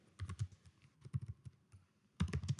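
Keys clatter on a computer keyboard in short irregular bursts of quick clicks, close and fairly quiet, with brief pauses and a denser flurry at the end; no one speaks.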